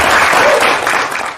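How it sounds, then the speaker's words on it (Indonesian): Loud, dense applause from an audience at a Malang community event, a continuous wash of clapping that tapers slightly toward the end. "Tepuk tangan nih"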